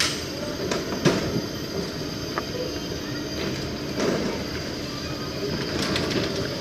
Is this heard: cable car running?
yes